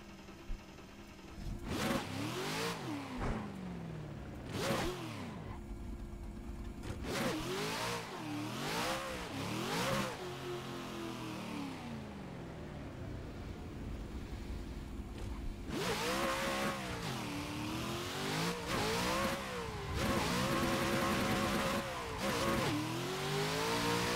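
A Nissan S14 drift car's engine revs hard in repeated surging bursts, rising and falling pitch with brief lifts between, loud and close, with tire squeal mixed in during tandem drifting.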